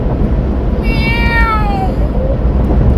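A cat gives one long, clear meow that slides downward in pitch, close and prominent over a loud, steady background rumble.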